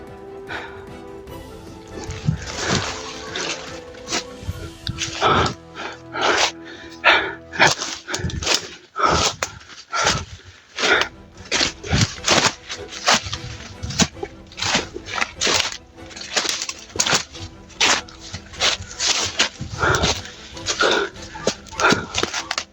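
Several dogs bark repeatedly in sharp, irregular bursts over about twenty seconds, some close and loud, others further off, against a constant rustling background.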